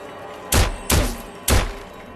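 CGI gunshots in a horror movie land as three short, heavy bursts in quick succession, dull and thumping rather than sharp cracks, each fading fast.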